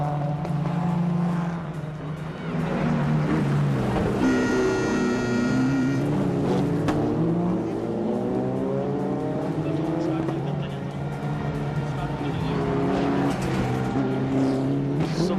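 Race cars on a warm-up lap at the Foxhill supercross track, engines droning and revving loudly throughout with rising and falling pitch as cars pass, under a commentator's voice.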